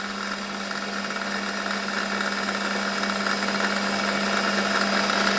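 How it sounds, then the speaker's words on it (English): Brass being drilled on a lathe: a continuous machine drone with a steady low hum and a faint grinding hiss on top, holding even and gradually getting a little louder. "brass is very nice metal to drill"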